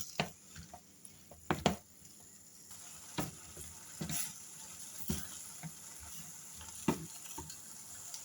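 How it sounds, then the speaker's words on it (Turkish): A mixture of purslane and wheat is stirred in a pan on the stove, soft sizzling under irregular spoon scrapes and clinks, close and fairly quiet. "Şöyle karıştırarak 1-2 dakika pişiriyorum."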